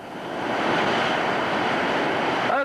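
Whitewater rapids on the Gauley River, a loud steady roar of churning water rising quickly and holding without a break, close by and heard alone.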